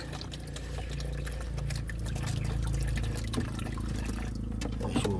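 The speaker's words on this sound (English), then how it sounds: "We give him some fresh water in his bucket." Fresh water pouring into a bucket, a steady splashing and filling stream that runs continuously from start to finish with no talk over it.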